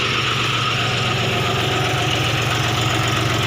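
A John Deere 5040D tractor engine runs at a steady idle nearby, with a continuous low, knocking diesel rumble throughout and no talk.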